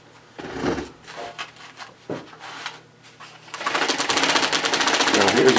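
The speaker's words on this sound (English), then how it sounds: "And now we're ready to sew" A sewing machine begins stitching after some handling clatter and a brief voice, then runs steadily in a close, continuous whirring hum until the end.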